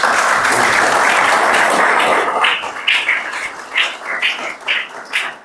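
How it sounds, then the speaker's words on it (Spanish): Audience applause at a university law lecture on sentence enforcement, a dense steady clatter of many hands that thins after a few seconds into scattered, fading claps. "vamos a dar un aplauso a los..."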